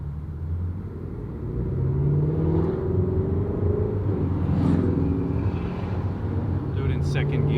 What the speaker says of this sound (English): I'm just gonna try and do one of these pulls with the windows down, just in case you guys can't hear the motor.